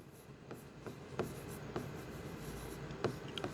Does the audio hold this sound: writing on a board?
yes